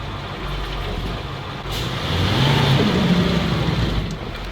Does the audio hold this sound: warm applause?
no